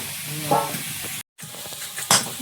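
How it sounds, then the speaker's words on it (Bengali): Potatoes sizzle as they are sautéed in a pan for aloo dum in a home kitchen, a steady frying hiss with stirring scrapes and a brief cut of silence midway, no talk over it. "ভালো করে কষিয়ে নিয়েছি আলুটা"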